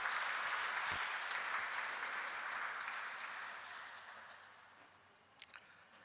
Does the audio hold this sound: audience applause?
yes